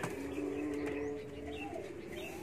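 Pigeons kept and bred by a hobby fancier coo softly in a low, steady murmur, several birds overlapping close by with a faint chirp in the background and no talking.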